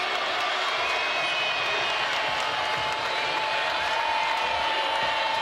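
A basketball arena crowd at an NCAA women's tournament second-round game, Princeton vs Indiana, roars and cheers steadily in the final minute, with a broadcast commentator talking over it.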